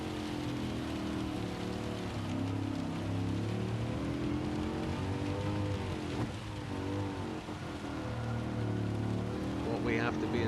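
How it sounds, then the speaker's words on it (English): Intensely heavy rain falls in Gran Turismo 7 during a race at the Red Bull Ring in a Mercedes SLS AMG, a constant dense hiss layered over a droning car engine throughout. "We're in the middle of a green patch, which is intensely heavy rain"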